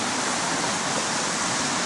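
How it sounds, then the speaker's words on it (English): Dense, even rush of river water coming down from Mount Kilimanjaro, a continuous close hiss and roar with no pauses or voices. "I'm standing next to a river now and it looks very polluted"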